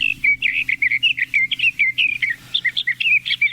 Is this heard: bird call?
yes